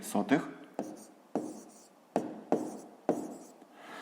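Someone writes a fifth-grade math exercise by hand with short, sharp pen strokes in a rhythmic sequence, about six or seven of them. The scratching comes close and clear against a quiet room.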